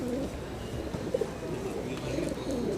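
Pigeons coo nearby in repeated low, throaty phrases over a steady background murmur, with a voice faintly present.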